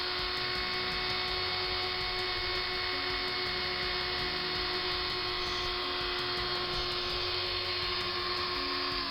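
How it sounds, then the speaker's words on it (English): Dremel rotary tool buffing the window unit of a Matchbox P.A. Cresta code 3 model car, a steady high-pitched motor whine with a constant drone held alone throughout at a moderate level. "here I'm buffing the window unit with my Dremel"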